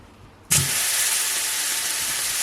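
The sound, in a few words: steak sizzling in hot oil in a frying pan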